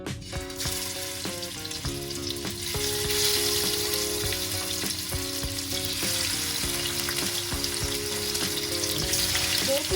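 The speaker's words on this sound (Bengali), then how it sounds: "মাছগুলো ভাজার জন্য আমি অল্প পরিমাণে সর্ষের তেল দিয়ে নেব।" Hilsa fish pieces sizzle and crackle in hot mustard oil in a pan, a dense, continuous frying hiss that stays loud and close throughout, with occasional clinks and no talking.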